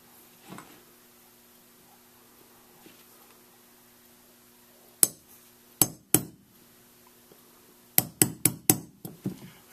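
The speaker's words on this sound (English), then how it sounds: "We're going to punch that pin right there out." A hammer drives a punch against a pin in a Walther Model 9 pistol, a few faint taps early, then two sharp metallic strikes and a rapid burst of five close, ringing blows near the end.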